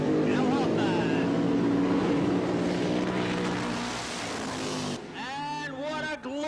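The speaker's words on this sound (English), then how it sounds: "A sensational burnout out of the Warlord Team USA car." A nitro funny car with a Keith Black racing engine does a burnout at Calder Park Raceway drag strip, a loud sustained roar heard from a distance, while an announcer talks over it.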